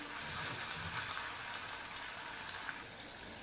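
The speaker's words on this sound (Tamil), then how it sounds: "கடாய் சூடு பண்ணி எண்ணெய் சூடு பண்ணிவிட்டு ஊற வச்சு சிக்கனை ஃப்ரை பண்ணிக்கோங்க." Marinated chicken frying in hot oil in a kadai over a medium flame gives a steady, dense hiss and crackle throughout, fairly soft and even, with no talk.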